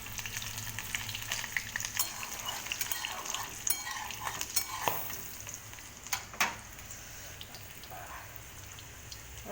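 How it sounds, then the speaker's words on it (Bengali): Chopped garlic and black cumin seeds fry in hot oil, giving a soft, steady sizzle with scattered crackles and the occasional stir or clink of a utensil. "রসুনটা একটু লাল লাল করে ভেজে নেবো।"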